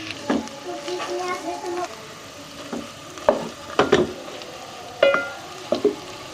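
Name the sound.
potatoes frying with cumin in a pan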